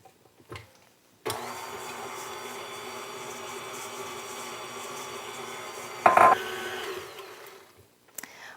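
A wire whisk mixes butter and sugar in a bowl with a steady machine whir that runs for about six seconds, briefly louder near the end before stopping.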